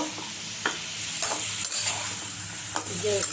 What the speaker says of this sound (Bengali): এবার আমি দিয়ে দিচ্ছি পটেটোগুলো, বয়েল করা পটেটোগুলো দিয়ে দিচ্ছি, কষে নেব